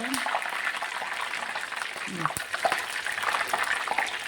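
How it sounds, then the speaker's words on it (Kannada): Fresh curry leaves fry in hot oil in a pan for a chicken liver and gizzard gravy, giving a steady crackling hiss with a few soft pops throughout, while a voice talks nearby. "ಕರಿಬೇವು ಸೊಪ್ಪು ಹಾಕಿ ಸ್ವಲ್ಪ ಉರಿಯೋಣ"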